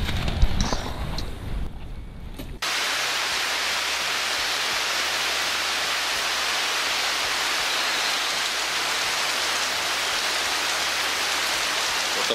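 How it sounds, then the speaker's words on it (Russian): Heavy, steady tropical rain pours down at a resort in Mexico in a dense, continuous hiss that starts abruptly after a brief moment of quieter sound and stays loud throughout. "Тропический ливень у нас в Барсело"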